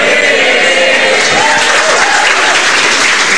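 Audience at a stand-up comedy show breaking into loud, dense applause, a close, continuous wash of clapping that holds steady throughout without pause.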